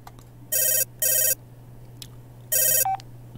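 A phone rings in a video game with a bright electronic ringtone in three separate bursts, two close together and then one after a pause. It sounds clear and close over a low steady hum, with no talking.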